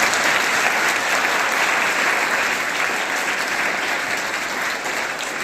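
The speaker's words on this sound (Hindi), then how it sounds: "तालियों से उत्साहवर्धन करें।" Students at a school career fair clap together, a loud, dense and steady round of applause that fills the hall and tapers slightly toward the end.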